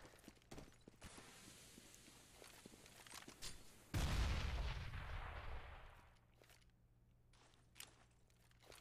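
In a Counter-Strike match, faint footsteps and scattered clicks lead to a single loud, booming gunshot or explosion that rolls off over a couple of seconds, followed by quieter scuffs and a small tap.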